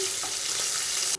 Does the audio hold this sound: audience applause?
no